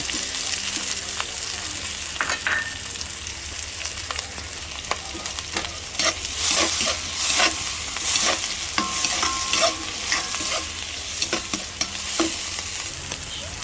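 Pork stir-fried in a hot pan for a home-cooked lunch gives a steady, close sizzle, broken by repeated scraping and clacking stirs of the spatula, with no talking.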